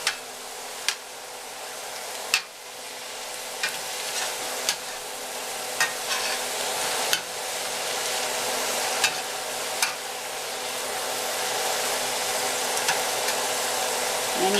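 Garlic lemon butter shrimp with fresh herbs sizzling in a pan while being stirred: a steady frying hiss with sharp, scattered ticks and scrapes of a utensil, fairly quiet and with no voices.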